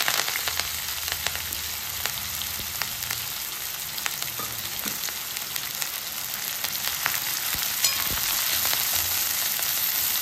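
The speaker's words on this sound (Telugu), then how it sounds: "ఇప్పుడు ఉల్లిపాయలు, పచ్చిమిర్చి, కరివేపాకు 3 ఒకేసారి వేసేసుకుందాం." Onions, green chillies and curry leaves frying together in hot oil with tempering spices for an egg curry, a steady broadband sizzle with occasional crackles and faint stirring, continuous and close throughout.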